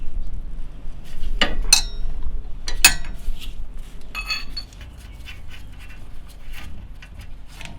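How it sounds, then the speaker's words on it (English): A 19mm wrench loosening a nut during a suspension bushing job, with sharp metallic clinks and clicks of the tool against the fitting over a low workshop hum, a few louder taps then quieter scraping. "come back here with a 19mm wrench, go to the top, and just loosen this guy"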